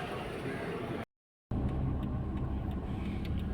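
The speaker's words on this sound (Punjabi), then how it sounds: "ਗੱਡੀ ਤੇ ਚੱਲਣ ਲੱਗੇ ਹੁਣ ਆਪਾਂ" A bus pulls away from Malacca on a trip toward Petaling Jaya and Kuala Lumpur, its engine rumbling in a steady low drone that cuts out briefly and then returns, without speech.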